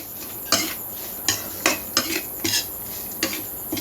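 Ingredients dry-roasted in a pan for a northern Thai dish, a utensil scraping and clinking against the metal in irregular close taps and scrapes, with no talking.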